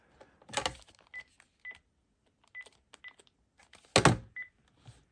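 A series of short electronic key tones from a Panasonic KX-TG5583 cordless phone, several quick beeps spaced irregularly, with a couple of louder clicks mixed in.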